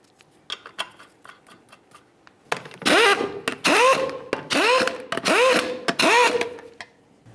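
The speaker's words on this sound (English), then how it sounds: "we'll torque this to 100 foot-pounds" A torque wrench tightens lug nuts on a Ford Ranger wheel, giving one light click and then a run of sharp ratcheting bursts. Each burst ends in a loud snap, repeated about six times in close succession.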